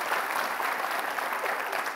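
Steady, dense applause from a studio audience at an Indonesian televised political debate, continuous and even throughout without pause.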